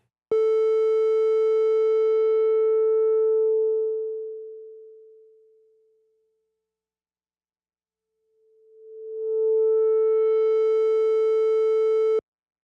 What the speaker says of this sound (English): I'm going to bring the cutoff frequency down so you can actually hear what happens as I sweep it back